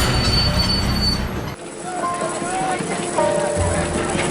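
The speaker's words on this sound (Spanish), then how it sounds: "el tranvía." A tram runs on rails in San Francisco, its wheels squealing and rumbling steadily with brief high screeches, while a narrator speaks over it.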